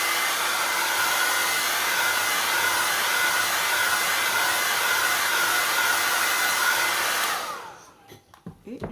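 A hair dryer blows a loud, steady roar while drying structure paste on a craft project, running continuously for several seconds before switching off abruptly, leaving a few faint handling noises.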